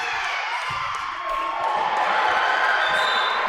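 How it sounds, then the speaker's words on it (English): Cheering from a crowd across a dodgeball court at a men's provincial championship in Manitoba. A steady wash of distant voices and whoops swells slightly midway, with faint ball thuds underneath. "We're just hearing some cheering from the other side of the court."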